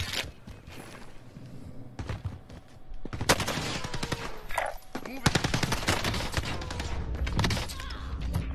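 Famas with shotgun attachment firing in Call of Duty Modern Warfare, bursts of close gunshots and rapid fire with thuds and footsteps, a quieter lead-in followed by dense repeated shots.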